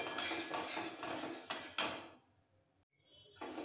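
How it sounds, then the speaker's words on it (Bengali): Mung dal poured into a hot wok for dry roasting gives a dry, scraping rattle of grains against metal for about two seconds, then falls quiet before the clatter briefly starts again. "এবার ডালটা কড়াইতে ঢেলে একটু ড্রাই রোস্ট করে নিতে হবে।"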